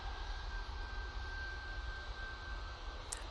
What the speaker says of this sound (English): Ryanair coming on in front of us.